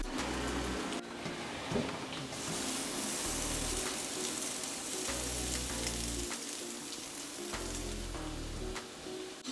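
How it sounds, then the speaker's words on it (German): Bacon fries in a pan while burger patties cook nearby, giving a steady, close sizzle and crackle throughout with no talking. "Den schmeißen wir jetzt mal in die Pfanne und braten ihn ein bisschen vor"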